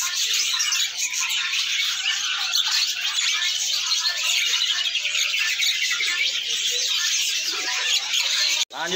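Busy, high-pitched calls and harsh chatter of an ashy drongo and other birds fill the air continuously at a bird shop, a dense chorus close by with a sharp click near the end.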